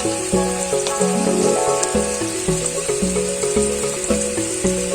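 Butter and cream simmer in a pan for a butter chicken sauce, a steady close sizzle and bubbling with faint stirring knocks, no voices.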